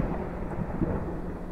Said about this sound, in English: And I don't want to hear you, Thunder.